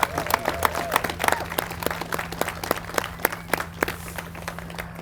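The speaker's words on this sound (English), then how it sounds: "I want us to give a round of applause for all of our uniformed officers." A crowd applauds uniformed police officers at a police station opening, with loose, uneven claps close by that thin into scattered individual claps, plus a faint background hum.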